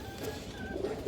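Soft cooing from high-bloodline pigeons kept in a loft, a brief low murmur at moderate distance with a slightly louder coo near the end.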